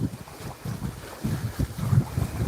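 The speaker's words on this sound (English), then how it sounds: "Holy, it's windy." Strong gusting wind buffets the microphone beside a choppy lake, with loud low rumbling surges and water chop underneath, no voices.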